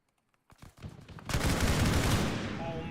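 Game gunfire in ArmA 3 cracks out in a few sharp shots, then swells into a sustained, loud volley of rapid fire that rolls on to the end.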